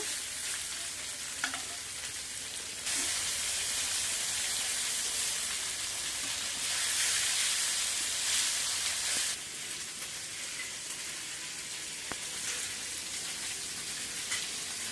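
Fish frying in a pan over a wood-fired clay stove, a continuous loud sizzle with bursts of stirring and scraping that swell and fade, no talking.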